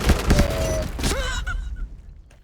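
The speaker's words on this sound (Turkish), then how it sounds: "Diqqət, bomba atıram." Explosion and gunfire in the video game Point Blank: a dense cluster of sharp blasts and rapid shots in the first second, then fading crackle and a tonal game effect as the noise dies away.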